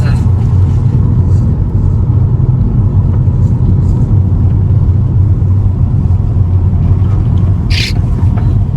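A car carrying passengers drives along a curving road, its engine and road rumble a steady, loud drone throughout with faint voices underneath.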